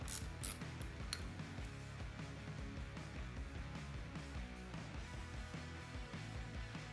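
Close, quiet ratcheting clicks from a driver backing out T25 screws on a Harley Street Glide handlebar switch housing, with a steady mechanical texture and no talking.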